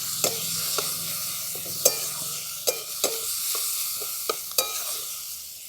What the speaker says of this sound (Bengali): এগুলো সব আমি ভালো করে তেলের সাথে ভেজে নেব।